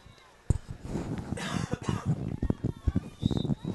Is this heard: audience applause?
no